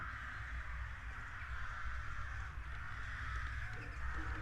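Crows cawing in a Halloween tabletop game's background ambience, a steady chorus of harsh caws that repeat throughout at moderate, fairly constant loudness.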